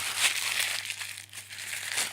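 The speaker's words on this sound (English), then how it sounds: "Now get a piece of baking paper and scrunch it up." A sheet of baking paper scrunched up by hand in a kitchen while preparing a pastry flan, giving continuous close crinkling and crackling for a couple of seconds with no talk.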